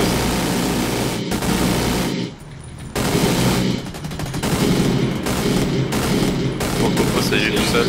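Rapid automatic gunfire rattles at an armored boss in The Division 2, loud sustained bursts with a brief pause in the middle before firing resumes.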